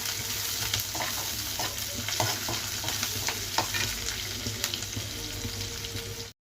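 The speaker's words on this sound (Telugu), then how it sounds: "ఉల్లిపాయలు కాస్త మగ్గాలి." Onions frying in a pan for fenugreek fried rice make a constant sizzle broken by frequent scraping and stirring clicks, continuing for several seconds before cutting off.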